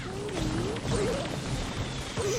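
Crates smash and break in the mobile game Brawl Stars, short crunching hits landing over continuous game music and effects.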